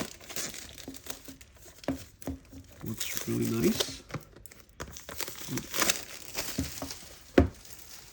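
Packaging for a Nuphy Air96 V2 keyboard crinkles and rustles in soft, irregular bursts during an unboxing, mostly under a person's talk.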